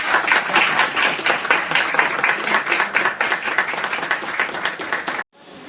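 Applause from a gathering at a progressive journalists' association meeting in Thane, dense continuous clapping from many hands that cuts off abruptly near the end.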